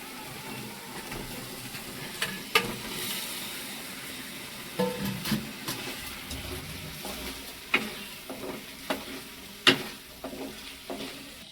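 Ground masala paste fries in a pan, a soft low sizzle with intermittent sharp clinks and scrapes of a spoon stirring, fairly faint and without talk.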